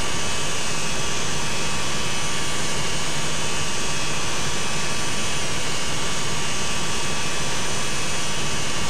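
Airliner jet engines roar at takeoff power in the FSX flight simulator, a loud, steady, unbroken broadband rumble and whine throughout.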